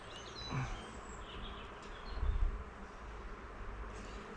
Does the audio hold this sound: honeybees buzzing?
yes